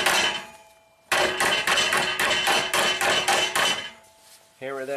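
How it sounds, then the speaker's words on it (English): Steel hammer blows ring out against sheet metal on a 1996 Mercury Mystique during stainless welding repair, a rapid close loud series of strikes after a short pause, then a brief squeal at the end. "Hammer that down."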